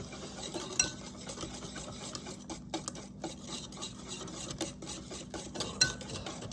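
Chess pie filling being blended in a bowl makes a quiet, continuous scraping and stirring, with utensil taps against the bowl ticking at irregular moments throughout.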